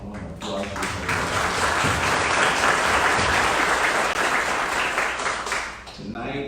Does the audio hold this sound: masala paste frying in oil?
no